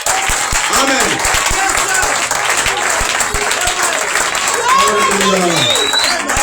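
A church congregation claps and cheers in a dense, continuous burst of applause, with voices calling out over the noise throughout.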